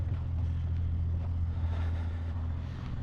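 A 1967 Toyota Stout pickup engine idles high with a steady, loud, low rumbling drone that stays constant throughout, with no voices.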